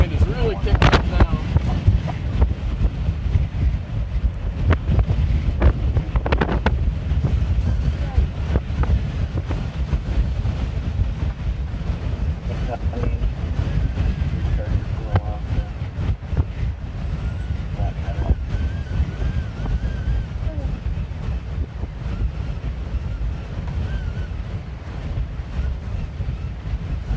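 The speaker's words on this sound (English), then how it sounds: "The wind is really kicking up now." Strong high winds in Lorain County roar and gust steadily, buffeting the microphone at close range with a constant low rumble for the whole stretch, while faint talk comes through in places.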